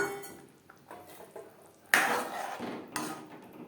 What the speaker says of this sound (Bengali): এবার দিয়ে দেব ডিম।